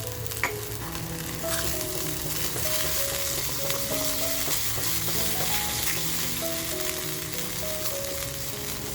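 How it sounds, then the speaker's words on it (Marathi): Masala sizzles and fries in a pan for a Kolhapuri-style mutton rassa, a dense, continuous crackling hiss that runs loud throughout over a soft musical backing. "मसाला आपल्याला छान असा फ्राय करून घ्यायचा आहे"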